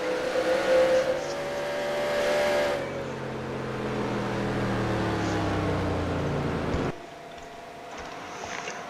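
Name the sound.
race cars at Talladega in NASCAR Racing 2003 video game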